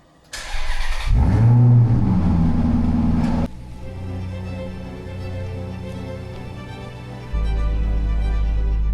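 A Maserati GranCabrio with a 4.7-litre Ferrari V8 fires up with a sharp start, revs loudly for a couple of seconds, then settles into a steady idle before a deeper, louder drone returns.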